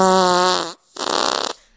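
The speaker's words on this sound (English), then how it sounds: "Fart noise." A comic fart sound effect: a long buzzy, voice-like blat followed after a brief gap by a second rough, fluttering blast, loud and close with no talk over it.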